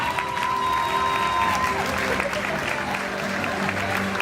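An audience at a Paris Manga convention panel applauds Game of Thrones guests. The clapping is dense and sustained from a large indoor crowd, with a brief tonal whine near the start.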